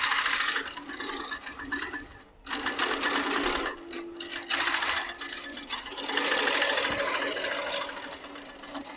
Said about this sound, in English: It is going to stitch over my block,